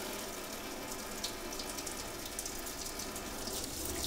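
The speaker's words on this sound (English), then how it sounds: "It's going to run real quick now that I have a flush valve and it's wide open." Water rushes steadily through the wide-open flush valve of a GX150 reverse osmosis system during a membrane replacement, a continuous hissing flow with faint splashing, close by and with no voices.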